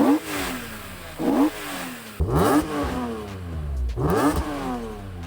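A battered BMW M3 E46 engine with a faulty, sticking accelerator revs hard several times, each loud rising surge followed by a falling drop, with brief pauses between the bursts.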